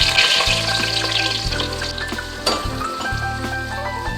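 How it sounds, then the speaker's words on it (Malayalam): Small onions (shallots) frying in oil with fenugreek for a Kerala sardine curry, a loud, close, steady sizzle with bubbling and occasional stirring scrapes, and a low hum running underneath. "ഉള്ളി ഒന്ന് ചുവപ്പ് കളറാവണം, അതുവരെ ഒന്ന് ഇളക്കി കൊടുത്തുകൊണ്ടിരിക്കണം"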